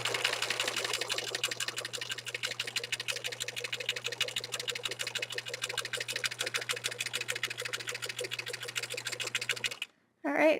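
A sewing machine runs with a fast, even stitching patter and a steady motor hum for about ten seconds, close and clear, then stops with a brief handling noise at the end.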